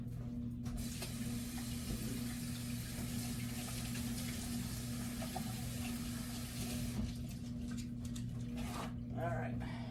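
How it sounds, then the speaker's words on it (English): Tap water runs steadily into a sink as hands are washed in a home kitchen, a constant close hiss and splash that stops briefly near the end, with speech behind it. "Let me just wash my hands real quick."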